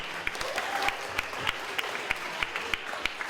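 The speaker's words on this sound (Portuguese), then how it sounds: "Vamos fazer um aplauso bonito para eles e o agradecimento." An audience at a children's music class concert claps warmly, a dense steady patter of applause with a few sharper claps standing out over a faint background voice.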